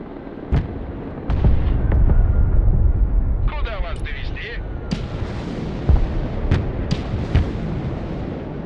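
Artillery shells from a creeping barrage in the war game Broken Arrow land in a scattered string of booming blasts and sharp cracks over a steady rumble, with some brief voice chatter mixed in.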